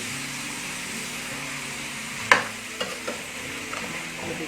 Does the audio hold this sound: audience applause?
no